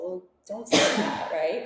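A single loud, close sneeze bursts out in a quiet room, preceded and followed by a person talking.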